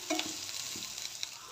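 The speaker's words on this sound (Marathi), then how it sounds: "हाय फ्लेमवर त्या भाज्या टॉस करून घ्यायचे आहेत, ओव्हरकुक करायच्या नाही आहेत." Sliced onion and vegetables stir-fried on high flame for soya paneer fried rice, giving a loud, steady sizzle with a few quick scraping tosses of the pan over a short stretch.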